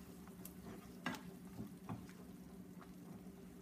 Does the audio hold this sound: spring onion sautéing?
yes